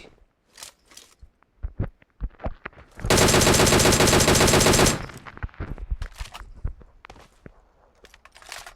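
AK rifle firing in a video game, a two-second burst of rapid automatic gunfire at loud, constant level, framed by quieter footsteps and scattered game clicks before and after.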